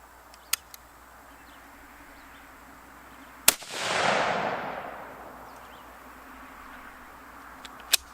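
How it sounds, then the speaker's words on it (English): Mossberg Patriot 30-06 rifle fired on a shooting range: one sharp, loud shot followed by a long rumbling echo that fades, with faint distant pops before and after it. "let's go ahead and show you all me out on the range shooting. Mossberg Patriot 30-06, top left dot."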